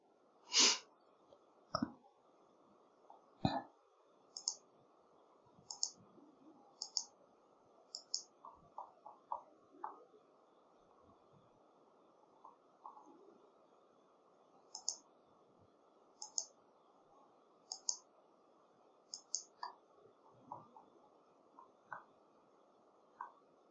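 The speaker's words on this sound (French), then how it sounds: "je pourrais prendre l'outil ligne et tracer donc mes murs. Voilà, donc je clique mes points." Quiet computer mouse clicks, single and spaced irregularly, made while drawing walls with the line tool in SketchUp, heard alone in a silent room.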